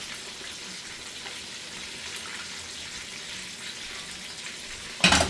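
Steady sizzling of pork chops frying in a pan, close and continuous, ending with a brief louder clatter.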